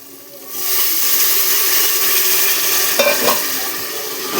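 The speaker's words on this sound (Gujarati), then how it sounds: "આપણે શાકભાજી નાખી મસ્ત વઘાર કરી નાખ્યો છે" Chopped vegetables hit hot oil for a khichdi tempering, bursting into a loud, close, continuous sizzle and hiss that holds steady with a few stirring scrapes.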